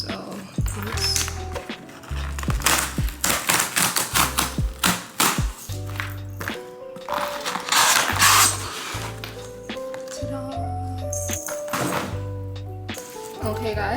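The secondary packaging of a 14-inch MacBook Pro M1 Pro is unwrapped close up, with rapid crisp clicks, taps and thunks in uneven bursts, some brief clinks, and a voice at times.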